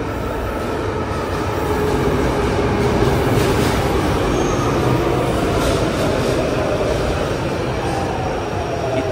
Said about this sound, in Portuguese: E o trem vem chegando aí.